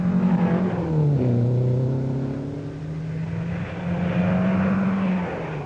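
A Triumph Herald engine drones and shifts pitch while cornering at speed on a thawing, slippery road in the 1960 Monte Carlo Rally, a steady loud motor note rising and falling without voices.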